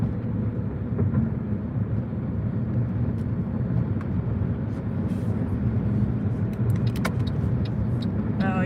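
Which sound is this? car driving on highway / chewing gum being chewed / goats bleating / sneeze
car driving on highway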